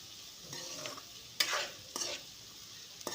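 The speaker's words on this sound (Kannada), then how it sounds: "ಇದನ್ನು ನೀಟಾಗಿ ಎಣ್ಣೆ ಒಳಗೆ ಬಾಡಿಸ್ಕೋಬೇಕು ನಾವು" Onions frying in hot oil in a pan for egg masala gravy: a steady sizzle with a few louder scrapes and stirs.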